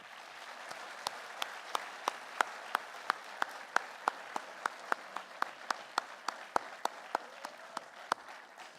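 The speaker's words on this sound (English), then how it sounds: "please can we have another round of applause for the class of 2025" A small audience at a school graduation ceremony claps steadily for several seconds, sharp distinct claps in a loose even rhythm, moderately distant, with no voices.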